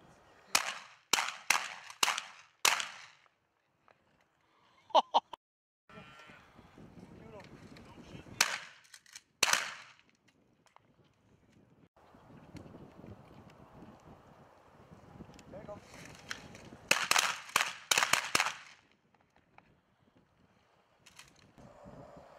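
Shotgun shots fired at pigeons in the open, several quick reports in clusters at the start and again near the end, with wind buffeting the microphone and voices in between.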